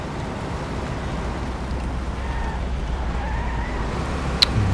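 A car drives in the video game Mafia: The City of Lost Heaven: a steady, low engine rumble with road noise, moderately quiet and continuous, with a short sharp click near the end.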